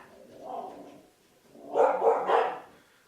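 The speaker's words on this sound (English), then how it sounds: "The dogs were barking because this invitation to a church was being placed on my front door" Dogs bark at a front door: one soft muffled bark, then a cluster of three louder, quick barks nearby.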